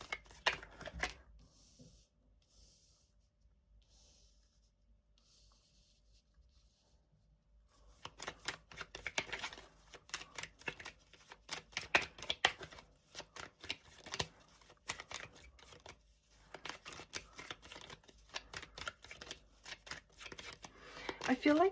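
Tarot cards shuffled in quick, crisp riffling flutters, quiet and close, following a near-silent stretch and continuing steadily to the end.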